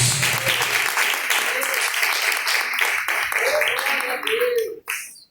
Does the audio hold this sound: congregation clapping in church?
yes